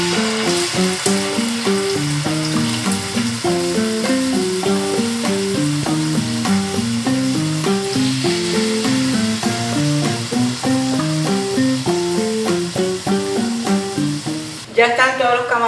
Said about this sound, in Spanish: Ya están todos los camarones en el sartén, entonces los vamos a dejar ahí que se sofrían alrededor de 3 minutos.